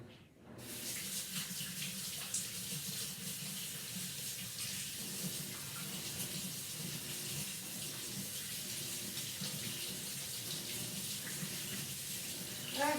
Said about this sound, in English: Hands washed.